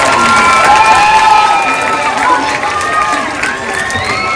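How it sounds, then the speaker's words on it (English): Children at a school assembly applaud and cheer loudly for classmates receiving certificates, a dense, sustained crowd of claps, shouts and excited voices close by throughout. "give them one big round of applause."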